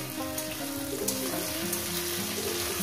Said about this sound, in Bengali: টমেটোটাকে দিয়ে আরো 1 মিনিট ভেজে নেব।